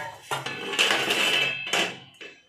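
A metal tawa griddle is handled, giving sharp clanks and scraping rings in a few close, loud bursts with short gaps between them.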